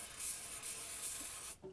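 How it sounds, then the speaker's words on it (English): Easy start is sprayed from an aerosol can into a narrowboat engine, a steady hissing spray lasting about a second and a half before cutting off, followed by a faint knock. "I have to spray easy start in it"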